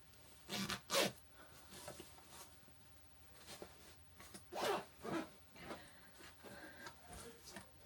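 Dark blue zippered packing cubes being zipped while someone packs for a trip, with several quick rasping zip strokes in irregular bursts, close by, separated by quiet handling pauses.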